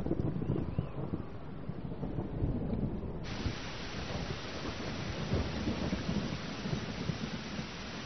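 Heavy rain pours steadily with a constant hiss, joined by low rumbling of thunder and gusts of wind buffeting the microphone.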